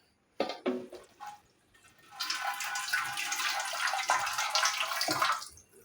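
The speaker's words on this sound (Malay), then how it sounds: "Masuk sikit air." Water poured into a cooking pot of Mee Sedap instant noodles at home: a few short splashes, then a steady, close rushing stream for several seconds before it stops.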